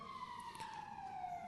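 A police siren played back quietly in a lecture hall, a single falling wail that is faint and steady, heard alone without talk.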